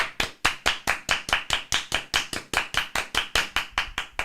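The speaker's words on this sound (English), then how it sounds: "Round of applause." Sharp, crisp claps land in a regular rhythmic beat, roughly four or five per second, close and distinct like a small group clapping in time rather than a scattered ovation.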